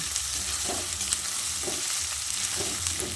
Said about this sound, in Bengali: আদা কাঁচা লঙ্কা ও হিংটা দিয়ে পেঁপে ও আলুর সঙ্গে বেশ ভালো করে নেড়ে চেড়ে মিশিয়ে নিচ্ছি